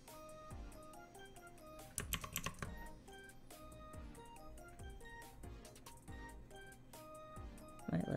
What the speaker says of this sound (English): Sorry if my keys clacking is too loud.